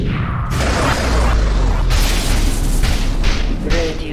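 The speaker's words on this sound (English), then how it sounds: "Radiant's bottom tower is under attack." Tower under attack in the video game Dota 2: a loud, dense mix of booming impacts and clashing combat noise, with several sharp bursts standing out over a constant low rumble.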